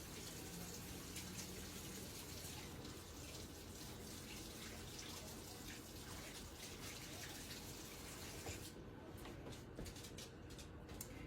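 Tap water runs steadily into a sink as hands are washed with detergent, a constant faint rushing wash of sound throughout, with a brief change near the end.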